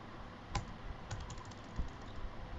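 Keys clatter on a computer keyboard in sparse, irregular taps, a few sharper presses standing out like an enter stroke, close-miked in a quiet room with no talk.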